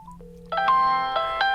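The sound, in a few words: phone ringing from an incoming call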